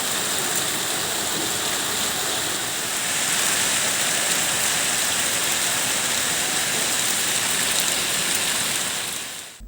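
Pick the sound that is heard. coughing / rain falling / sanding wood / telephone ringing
rain falling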